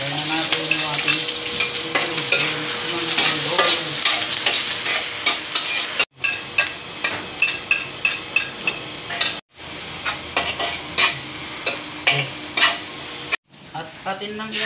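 Ingredients sautéing in a hot pan, loud sizzling under repeated rhythmic scraping and clanking stir strokes, broken by a few abrupt gaps, with no talk.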